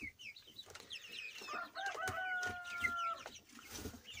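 Young chicks peep and chirp in a cluster of bright high calls, with several overlapping and some sustained whistling notes near the middle; small fowl calls sound close by over low background noise, with no talking.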